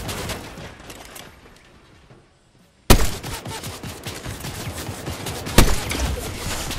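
Video game gunfire with a rapid burst of shots, a brief silent gap, then heavy sustained firing with a loud sharp blast near the end, dense and close throughout.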